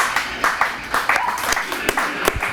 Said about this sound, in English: I got applause.